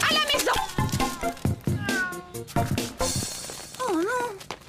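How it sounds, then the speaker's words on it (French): Several cats meow close by in a quick run of overlapping cries, with a few sharp clatters and a final drawn-out wavering meow. "Allez hop, les chats, à la maison!"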